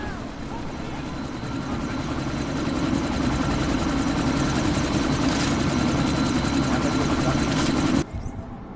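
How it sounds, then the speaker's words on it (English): Helicopter in the video game Deus Ex: Mankind Divided spooling up for takeoff, a loud steady rotor and engine roar with a throbbing low beat that swells slightly before cutting off abruptly near the end. "That chopper's about to take off!"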